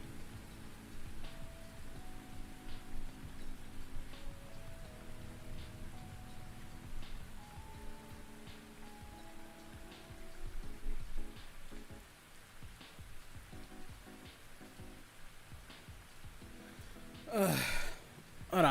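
Soft, steady rain falls for a long stretch, quiet and even, with no talking and a brief louder rustle near the end.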